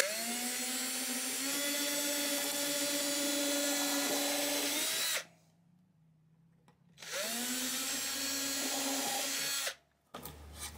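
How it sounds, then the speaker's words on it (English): A power drill whines steadily while enlarging a hole in a guitar neck to fit an inflator needle, running about five seconds, stopping briefly, then running again for another stretch before cutting out. "while we're drilling this out"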